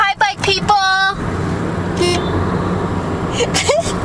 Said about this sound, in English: I love honking